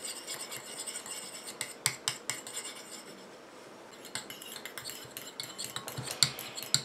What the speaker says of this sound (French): Je continue à mélanger comme ça jusqu'à ce que mon émulsion épaississe et refroidisse.